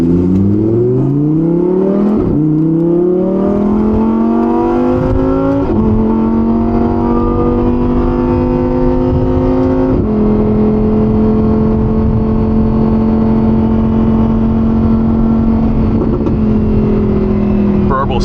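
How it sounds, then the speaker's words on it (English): A Lamborghini Huracan Evo Spyder engine revs loud and close from the cabin with the rear window lowered, climbing through gears in repeated rising sweeps with brief dips between shifts, while a person talks over it. "Just got a little more engine noise in the cabin."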